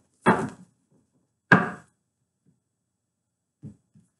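Tarot cards are shuffled by hand in two short, crisp riffling bursts separated by a pause, followed by faint soft taps as the deck settles in a quiet room.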